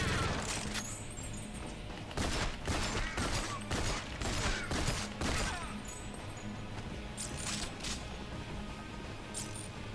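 A helicopter attacks the player in GoldenEye: Rogue Agent, firing rapid, loud bursts of gunfire and impacts that come in clustered volleys over a steady game background, then ease into scattered hits.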